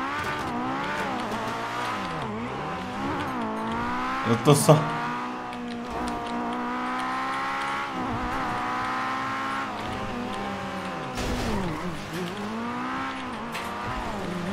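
A Fiat Uno driving in GTA roleplay, its engine droning and rising and falling in pitch as it revs and shifts, with a brief tire squeal partway through, under steady talking.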